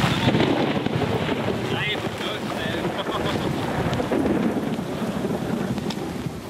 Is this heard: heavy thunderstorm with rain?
yes